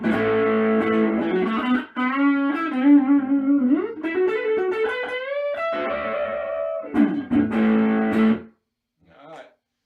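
Partscaster electric guitar on its neck pickup, playing a warm sliding and bending lead line with sustained notes up close, ending in a brief pause and a short final strum.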